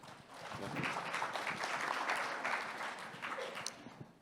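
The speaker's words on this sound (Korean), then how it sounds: "큰 박수로 맞아주십시오." Audience at a district public-policy debate forum on parking welcoming a panelist with applause, a fairly quiet, steady patter of many hands clapping that rises, holds, and thins out toward the end.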